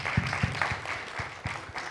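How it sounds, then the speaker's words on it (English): Scattered audience applause at a conference forum, a thin spread of claps with a few louder individual hand claps standing out, fairly faint and distant in a large room. "let's keep the applause going. Let's keep the applause going."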